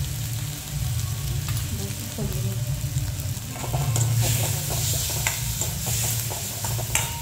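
Semolina sheera with sugar and cardamom powder stirred in a pan, a steady low sizzle with scraping spoon strokes that quicken toward the end, continuous and close.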